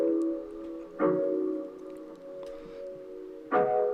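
Jazz guitar preset played through a Fat Filter feedback delay, sustained tonal chords ringing with two sharp re-struck attacks near the start and end, echoing tails smearing between them, alone with no talking.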